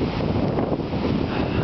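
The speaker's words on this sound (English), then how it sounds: "it is very windy out here." Strong, steady wind roars and buffets the microphone outdoors in rural Fayette County, Illinois, as a thunderstorm rolls in, a continuous loud rushing with no voices.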